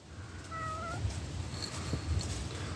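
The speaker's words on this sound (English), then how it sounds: "my video cat's here" A pet cat meows near a microphone, a few drawn-out mews in succession with quiet room noise beneath and no talking.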